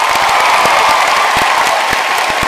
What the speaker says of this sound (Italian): Andiamo a fare un applauso alla Roby che si è